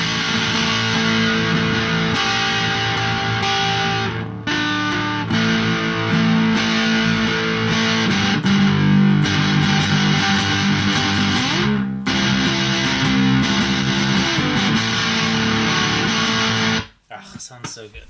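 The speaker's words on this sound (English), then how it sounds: "even with the gain all the way down, just massive fuzz." Electric guitar driven through a Pine-box Customs Fever Dream fuzz pedal with the gain turned all the way down, still thick and saturated, sustained chords and notes ringing continuously and loud for most of the stretch before cutting off near the end.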